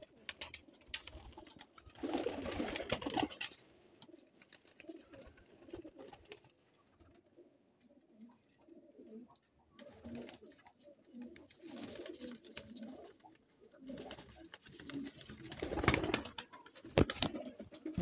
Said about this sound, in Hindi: मोती वाले कबूतर की जोड़े की पट्टी है